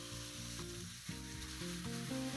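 Ground meat sizzles and fries in a pan with onion, garlic and butter, a close, continuous crackling hiss with faint stirring, no voices.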